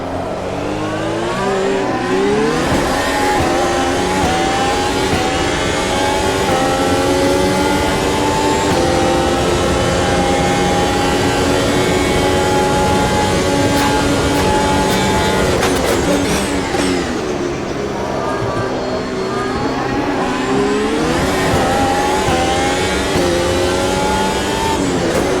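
Race car engines scream through gear changes on the final lap at Monza in Automobilista 2, a loud continuous high-revving drone with rising pitch sweeps, downshifts and rival cars passing.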